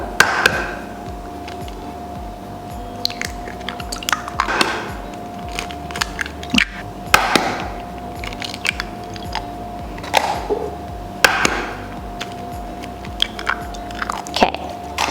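Eggs cracked one after another into a bowl in a home kitchen while making galaktoboureko: several sharp, crisp cracks and taps spaced a second or two apart over a steady low background hum, with no talking.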